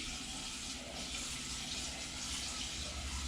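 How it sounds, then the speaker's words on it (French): Water poured into a pot while miso soup with seaweed is prepared, a steady, continuous running and splashing rush close by with no talk. "Je vais ajuster la quantité d'eau"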